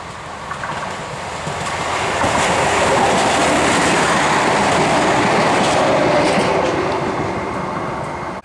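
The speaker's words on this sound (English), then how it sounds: "Broad gauge train passing over the Torrens Junction." A broad gauge train passes over the Torrens rail junction in Adelaide. It is a loud, close, continuous rumble with clickety-clack from the wheels that swells in and then eases slightly as it goes by.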